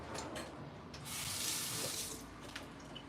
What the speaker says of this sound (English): I'll rinse this spoon off.